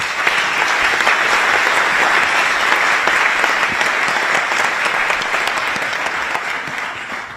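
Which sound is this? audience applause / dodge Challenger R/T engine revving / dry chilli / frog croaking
audience applause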